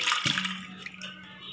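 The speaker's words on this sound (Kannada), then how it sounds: "ಸ್ವಲ್ಪ ನೀರು ಹಾಕಿತು." Water splashes briefly into a pressure cooker, a close, quiet pour that trails off into a faint ringing hum.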